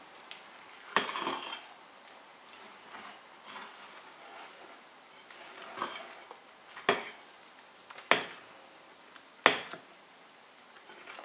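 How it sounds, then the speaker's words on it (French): Whisk or spoon gently folding genoise sponge cake batter in a bowl, soft scraping swishes broken by a few sharper clinks against the side, steady and close with no voices. "Délicatement, nous allons remuer comme ça délicatement"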